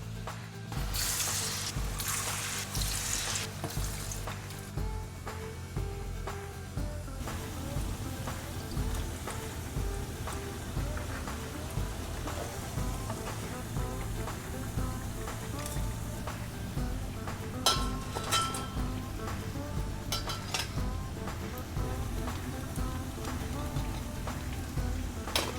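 Food frying in hot oil for egg fried rice with Gobi 65, a continuous crackling sizzle with scattered pops and clinks, close and steady throughout, no talking.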